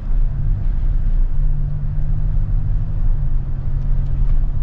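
Cabin of a new Toyota Tacoma TRD Pro pickup rolling over bumpy ground, with a steady, loud low rumble of engine and road noise running throughout and no speech.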